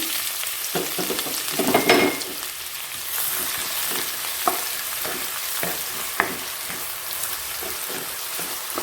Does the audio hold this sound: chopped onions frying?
yes